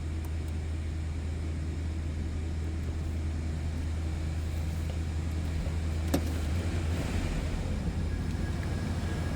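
A 1987 Chevrolet Monte Carlo SS Aerocoupe engine idles with a steady, low, even rumble, close by and unchanging, with no talk over it.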